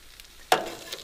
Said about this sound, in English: Put on that bacon.